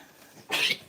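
A bottle-baby goat kid lets out a single short, harsh cough close by, lasting about a quarter second after a quiet moment.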